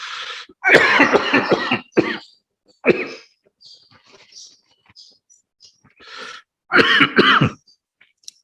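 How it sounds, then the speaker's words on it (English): Several short, harsh coughs during a Buddhist Dhamma talk, some in quick clusters, close by and fairly loud, with quiet pauses between them. "Like a cough."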